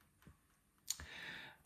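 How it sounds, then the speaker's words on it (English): A typewriter is used to type jukebox title strip labels: a few sparse, quiet clicks and one sharper key strike followed by a brief mechanical rasp, all faint against a quiet room. "So what we're doing is we're typing these labels"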